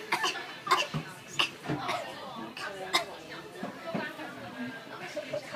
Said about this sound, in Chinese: 我们一起咳嗽，预备。